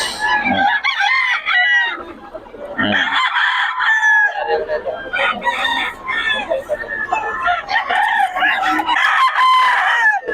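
A National banded gamefowl rooster from a farm crows loudly and close several times, with clucking between the calls and no clear talk.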